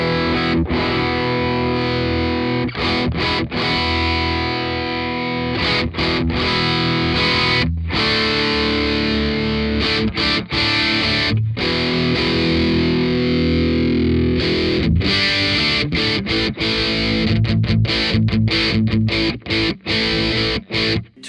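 Electric guitar roars through a Marshall Valvestate VS100R amp on its distortion channel, thick saturated chords and chugging riffs with brief stops, loud and continuous with a scooped, bass-heavy and bright tone.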